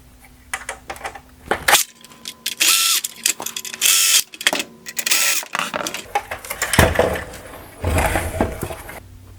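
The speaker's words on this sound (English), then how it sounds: "Next, I'll remove the Phillips head screws holding on the outer bezel." Phillips screws come out of the outer bezel of an Infiniti QX60 bi-xenon headlight, with close buzzing whirs of a powered driver in several bursts, interleaved with clicks and plastic handling noises.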